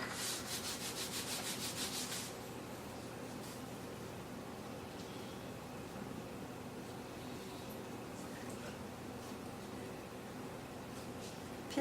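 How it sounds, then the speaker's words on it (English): Cinnamon roll dough rolled up by hand from the short end on a floured surface, a soft steady rubbing and pressing that runs continuously, with a brief brighter scraping burst at the start. "this time we're rolling from the short end because we want a big, big roll."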